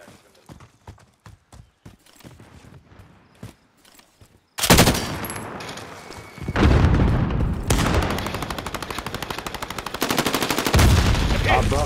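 Gunfire in Call of Duty: Warzone, starting with sparse clicks and footsteps before loud, rapid automatic bursts erupt and rattle on through the rest of the moment, close and intense.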